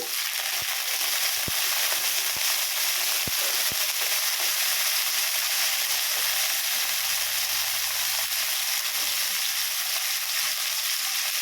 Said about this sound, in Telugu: పచ్చిమిర్చి అయితే కొంచెం దోరగా వేగాలన్నమాట